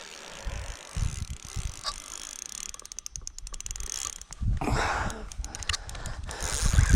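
A fishing reel's ratchet clicks in rapid bursts, nearby, over wind and outdoor handling noise, with a louder rough stretch midway.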